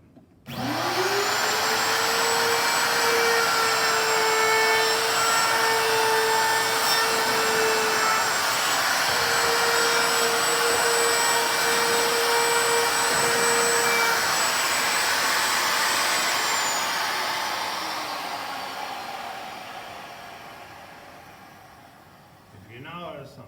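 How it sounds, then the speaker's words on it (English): A hand-held router cuts a round-over profile along a wooden board. Its loud, steady high-pitched whine starts up, holds for about fifteen seconds, then winds down, with some talk along the way. "Be very careful using the router."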